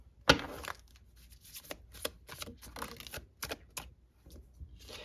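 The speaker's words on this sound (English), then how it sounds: "I feel like I need to pull more cards." Tarot cards are shuffled and pulled from a deck: a sharp riffle at the start, then a string of quick, close, irregular flicks and snaps of card stock, fairly quiet.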